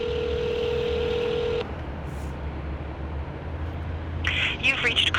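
A telephone being dialed to reach a church media relations office: a steady tone holds for over a second and a half, followed by quiet line noise and then a brief burst of further tones at the end.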